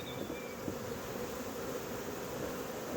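Quiet, steady hum of many honeybees buzzing around an opened hive, a dense continuous drone with no voices.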